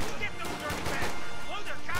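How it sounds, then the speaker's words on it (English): Gunfire from a Warhammer 40,000 video game battle, a busy two-second burst of overlapping shots and thuds including an incendiary round, with a voice talking over it. "that was a nasty incendiary round"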